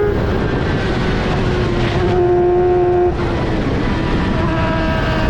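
An F1000 race car's engine runs at speed onboard down the Hangar Straight at over 100 mph, a loud, constant roar with a tone that rises and shifts as it pulls through the gears, with no voices.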